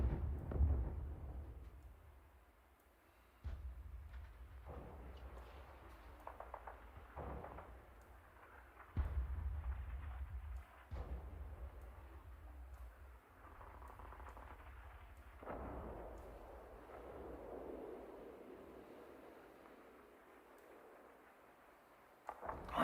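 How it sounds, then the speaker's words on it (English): Artillery fire in the World War II strategy game Panzer Leader at El Guettar, a string of deep booming blasts that roll like thunder, rising and fading irregularly over a low rumble, with no voices. "I don't know there's artillery coming here."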